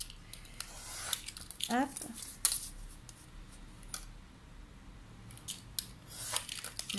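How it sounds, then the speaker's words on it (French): A craft knife drawn along a ruler slices through paper for a scrapbook album base, giving a short, sharp scraping stroke near the mic amid small handling clicks and taps. "Et après, moi, je prends mon cutter. Je mets ma règle et je coupe."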